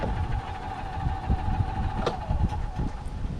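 A Tracker OX400 off-road vehicle idles with a steady low engine rumble and a constant mid-pitched drone, close and continuous, with a brief sharp knock near the middle.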